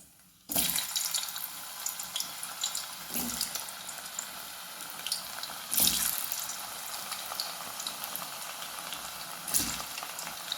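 Banana pieces fry in hot coconut oil for Kerala sharkkara upperi, a dense continuous bubbling hiss starting suddenly and holding close and steady throughout, with a few louder surges.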